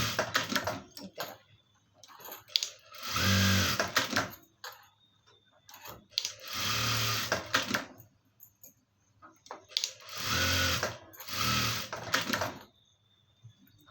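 A sewing machine runs in three bursts of a few seconds each, stitching a lining to the main cloth, its rapid whirring rattle close by, with quiet handling sounds in the pauses.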